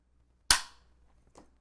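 A trading card binder snaps shut with one sharp, loud clap, followed by a softer second click moments later.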